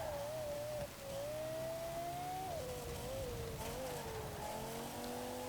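A 2009 Lexus IS F with bigger camshafts in Forza Horizon 4 revs hard toward 9,000 RPM, its engine note climbing, dipping at a gear change and rising again, loud and steady throughout.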